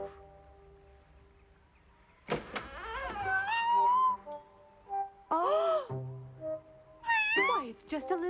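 A small cartoon kitten meows several times in short, rising and falling cries, clear and close, with quieter gaps and a low hum between them.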